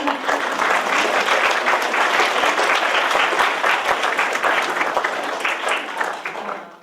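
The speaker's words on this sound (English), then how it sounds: "So round of applause." A small audience applauds after a visiting artist's talk, with dense, steady clapping that holds at an even level for several seconds and fades slightly at the end, with no voices over it.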